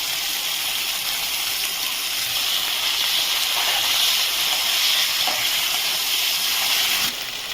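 Boiled bitter gourd dropped into a hot pan for kaju karela sabji, a steady loud hiss of sizzling that holds evenly throughout with no talk.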